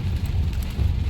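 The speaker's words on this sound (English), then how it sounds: "And it started raining." Rain falls outdoors as a dense, steady hiss of drops that is brief and close, with no voices.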